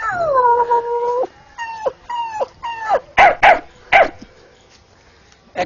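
A man imitates a dog with his voice, starting with drawn-out whining yelps and then giving a string of short, sharp barks spaced about a half-second apart, close and loud.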